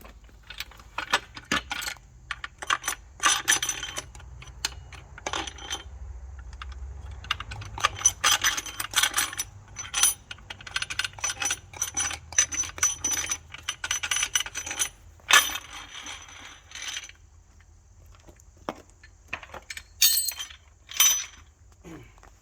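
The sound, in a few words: removing upper rocker box cover from 6.0L VT365 diesel engine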